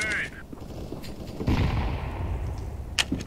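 A Counter-Strike: Global Offensive gunfight: a sharp gunshot bursts midway amid game noise, with another quick crack near the end, loud and close, with some talk mixed in.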